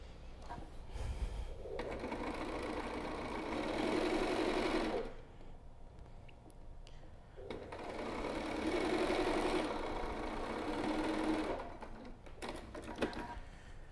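A sewing machine stitches the sides of a moulded fabric face mask in two sustained close whirring runs, with pauses, faint handling clicks and rustles between them.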